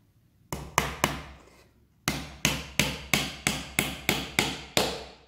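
Hammer strikes driving nails into a small handmade wooden box, two quick blows, a pause, then a steady run of eight evenly spaced sharp knocks, close and loud with short ringing decays.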